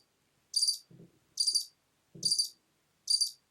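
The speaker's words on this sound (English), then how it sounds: "Delayed reaction there with the crickets." Crickets chirp in a clean sound-effect loop, four evenly spaced bright trilling bursts alternating with softer low blips, with no talk over them.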